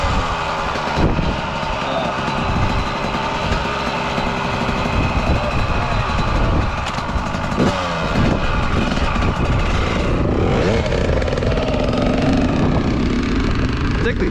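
A Yamaha YZ 125 two-stroke dirt bike engine runs loud and close, with a continuous raspy drone throughout, while voices talk over it.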